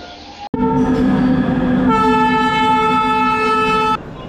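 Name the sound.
Vande Bharat Express train arriving at Dhanbad platform 1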